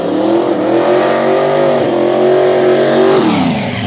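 Big-block boosted Ford Mustang at an outlaw small-tire radial drag race, its engine roaring loud and close with a steady high-rev drone, a brief dip and rise in pitch, then a rev change near the end.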